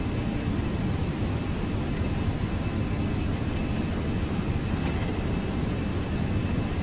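A320 airliner engines spooling up to takeoff thrust in a flight simulator, a loud steady broadband jet roar holding constant throughout with no talk.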